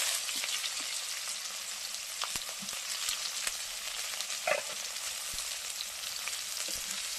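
Chopped onion sizzles steadily in hot oil over crackled cumin seeds while a home-style egg curry is being made, a dense, continuous frying hiss with occasional sharper pops and a brief louder burst midway, no voices.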